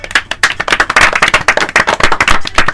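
Lively hand clapping on a radio programme for listeners who sent correct answers, a dense patter of claps from a small group that stays loud for nearly three seconds with no talking.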